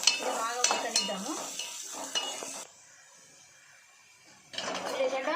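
Onions and curry leaves fry in oil with sizzling and utensil scrapes against the pan, close by and broken up by speech. The sound cuts to a near-silent gap in the middle, then resumes.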